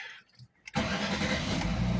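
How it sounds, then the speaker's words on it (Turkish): Jaguar X-Type car engine cranking briefly then catching and settling into a steady, loud, close idle rumble, heard alone. "Arabayı çalıştırdık."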